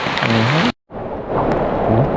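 Heavy rain pours down in a forest during mushroom picking, a loud, continuous hiss briefly cut by a short gap of silence before it resumes.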